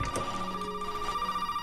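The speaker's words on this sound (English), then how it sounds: "Phone? Oh my gosh, I was waiting for this Zoe phone call." A phone rings in a video game, a steady electronic trill with a sustained tone, fairly loud and alone for a second and a half.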